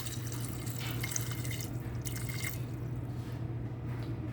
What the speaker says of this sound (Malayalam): കുറച്ച് വെള്ളം കൂടി ചേർത്ത് നമുക്കിത് വേവിച്ചെടുക്കാം.